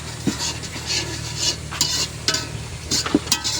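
Masala shrimp fried and stirred in a pan gives a close, steady sizzle under repeated sharp scrapes and clinks of a utensil against the pan, in an irregular rhythm.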